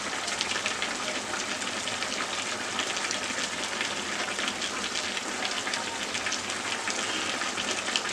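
Chicken curry bubbling hard on high heat as its water cooks off, a dense, continuous sizzling and popping hiss heard close up without pause.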